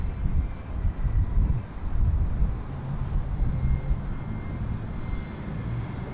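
A jet aircraft departing Bangkok's Suvarnabhumi airport gives a steady, loud low engine roar throughout, with some wind buffeting the microphone and no talk.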